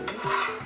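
A chapati in a pan with a little oil gives a brief, soft sizzle and scrape lasting under a second.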